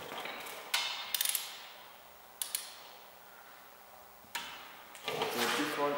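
Metallic clicks and clanks from working on a Hyundai Tucson brake caliper to remove its two 17 mm screws, a few sharp ratchet-like hits and rattles spaced apart, with a rising clatter at the end.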